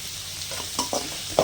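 Garlic and spices frying in a pan for a tomato rice dish: a steady close sizzle with a few light stirring scrapes and clicks, no talking.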